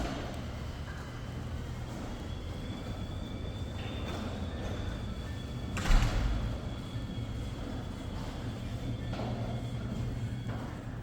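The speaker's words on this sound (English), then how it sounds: "I do my garage door test to test how loud this" A garage door in a newly built luxury home in Bellevue's Enatai neighborhood rumbles open with a steady mechanical drone, a brief louder clunk partway through, then keeps running evenly to the end with no talking.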